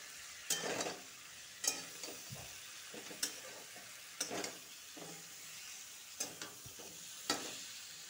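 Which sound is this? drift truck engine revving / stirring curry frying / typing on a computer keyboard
stirring curry frying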